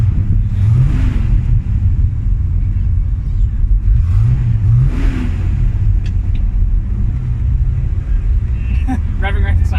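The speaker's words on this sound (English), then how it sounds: "Revving right beside a sheriff." A 1981 Ford Mustang engine rumbling and revving during a street cruise, loud and close with swelling rev surges, wind buffeting and voices over it.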